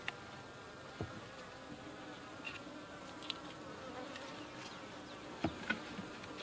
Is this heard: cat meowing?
no